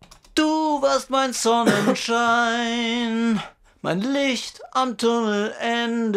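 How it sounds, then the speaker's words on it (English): Vocal doubler effect in Cubase 7.5 applied to a sung German vocal line, a single close, loud singing voice thickened by a slightly detuned doubled layer, phrases separated by brief pauses. "The vocal doubler sounds like this."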